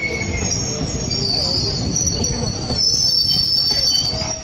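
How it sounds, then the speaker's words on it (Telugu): A train pulls into a station platform at Tirupati, its wheels squealing in a loud, sustained high-pitched screech over a heavy rolling rumble, close by and with no voices. "ట్రైన్ వచ్చింది."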